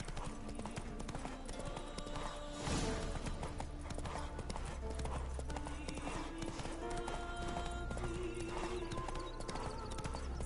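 Hooves of a horse clip-clop in a steady running rhythm inside a video game, with game music and ambient effects underneath and no voice heard.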